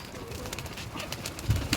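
Soft, low cooing of racing pigeons murmurs through a faint background hiss, with a slightly louder burst of coos near the end.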